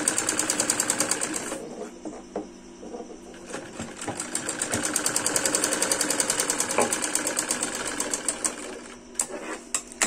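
Close by, a sewing machine stitches piping onto salwar fabric in rapid, rhythmic bursts of needle clatter, pausing briefly and then running on steadily.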